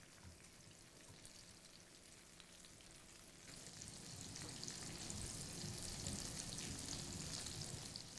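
Okra slices frying in a pan over medium heat, a steady dense sizzle and crackle that swells louder halfway through and keeps going without talk.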